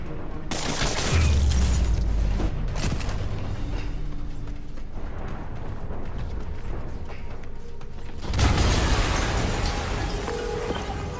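Loud booming blasts in the video game Marvel's Spider-Man during the Kingpin boss fight, a heavy low rumble at the start and another burst near the end, with chaotic mechanical noise between them.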